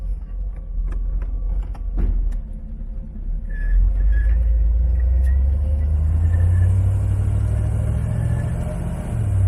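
A 1968 Chevrolet Corvette Convertible pulls away on a first drive, its engine rumbling low and steady and building louder as it gets moving, with a few faint clicks and knocks early on and no voices.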